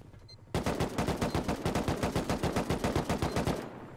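Rapid automatic turret gunfire in the survival game Rust, a loud, steady stream of evenly spaced shots that starts abruptly and runs for about three seconds before cutting off.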